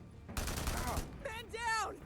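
Gunfire erupting in a firefight with marauders in the open-world game Days Gone, a dense loud burst of shots followed by further bursts, with shouting mixed in.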